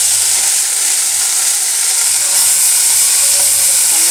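Balloon vine leaves sautéing in castor oil give a steady, close, bright sizzle that holds evenly throughout with no voices.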